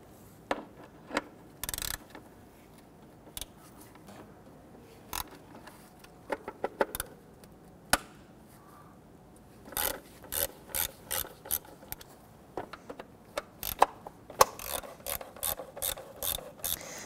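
A ratchet works 10mm bolts out of an engine's upper timing cover, quick bursts of fine ratcheting clicks scattered between pauses, close and fairly quiet, with small metallic taps and rubbing in between.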